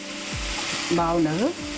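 Shredded cabbage and fresh grated coconut frying on low heat in a pan, a continuous close sizzle with a brief spoken word partway through.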